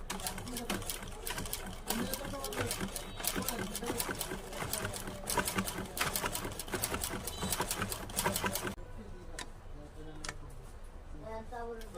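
A domestic sewing machine stitching a test piece of fabric after being threaded, running as a steady, loud, rapid mechanical patter for several seconds before stopping, leaving quieter handling noise.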